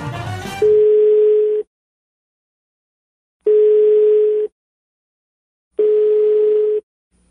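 A telephone ringback placed for a prank call: three identical steady tone bursts, each about a second long and separated by two-second silences, loud and close after a brief burst of dialing noise.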